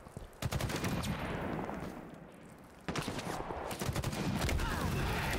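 Rapid gunfire from online multiplayer Halo Infinite, dense overlapping shots in sustained bursts with a brief lull near the middle before the shooting resumes just as loud.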